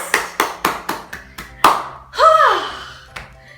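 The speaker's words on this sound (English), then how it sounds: "I want to clap again for you" One person claps their hands about seven times in a quick, even rhythm, close and crisp, then a short voiced exclamation follows and a last light tap.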